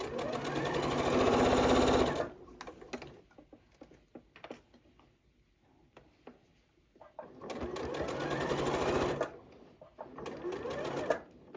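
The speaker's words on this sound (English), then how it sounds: "Raise my presser foot, rotate the fabric, and then continue stitching down to my next dart" A Janome 8200 QCP sewing machine stitches fabric in two long rapid runs, a steady mechanical whir separated by a pause of quieter clicks and handling sounds.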